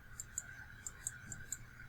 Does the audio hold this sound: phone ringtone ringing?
no